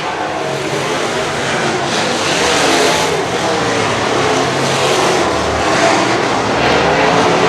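Sprint cars racing around a dirt oval produce a loud, continuous broadband engine roar that swells and fades as the pack passes, with no speech over it.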